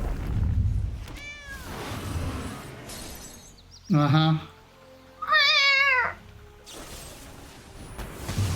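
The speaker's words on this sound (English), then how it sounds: "Sounds like an injured kitty." A cat meows twice as a card-game effect in Magic: The Gathering Arena, two loud, whiny, wavering cries of about a second each over quieter game noise, with a brief spoken murmur.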